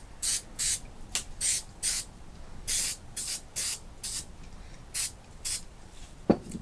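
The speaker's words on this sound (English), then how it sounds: "we're going to give the back of those a little spray" Short bursts of aerosol adhesive spray hiss repeatedly in an uneven rhythm, close and fairly quiet, with a small knock near the end.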